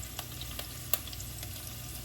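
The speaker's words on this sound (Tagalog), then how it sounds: "So fry muna natin itong onions." Onions sizzling and frying in a pan for spicy chicken pork adobo, with garlic added next, a steady close crackle broken by a few sharp pops and stirring clicks.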